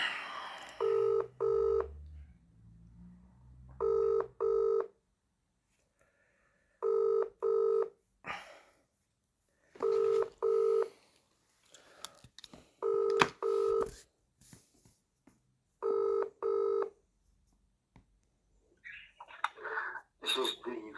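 A telephone gives repeated paired ringback tones in a steady cadence, about seven rings over twenty seconds, with faint background noise and a brief voice near the end.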